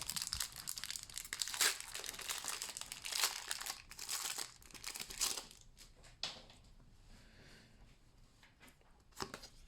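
Crinkly plastic foil of a Pokémon Brilliant Stars booster pack wrapper being crumpled and torn open, a close, busy run of rustles and crackles with a few sharp tears, then quieter scattered crinkles.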